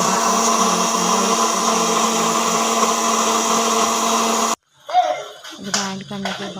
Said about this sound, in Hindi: फिर सारे मसाला जार इसमें डाल के एक जग में डाल के, तो फिर मैंने इसको ग्राइंड कर लिया